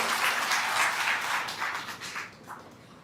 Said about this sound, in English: Ladies and gentlemen, please put your hands together for Ms.